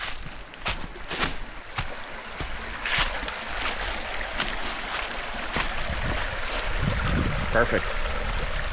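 A mountain creek flows near a campsite, a steady rushing wash broken by bursts of wind buffeting the microphone; a voice speaks briefly.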